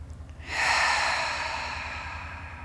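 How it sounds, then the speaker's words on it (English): One long, airy exhale during a yoga session swells quickly and tapers over about two seconds, close and soft, with a low steady hum underneath and no talk. "we'll start by exhaling our air out,"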